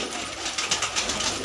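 Fancy Kalsra pigeons coo softly in a rooftop loft in Trilokpuri, a low, rolling murmur of several birds close by with no talking over it.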